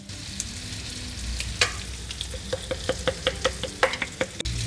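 Food sizzles in butter in a frying pan, a constant hiss with a run of sharp, evenly spaced pops and crackles toward the end.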